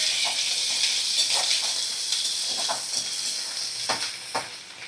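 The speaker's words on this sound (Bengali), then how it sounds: "2 মিনিট একটু নাড়াচাড়া করে নেব।" Ginger-garlic paste and salt sizzle in a frying pan as they are stirred, a steady close hiss with intermittent scraping strokes of the utensil.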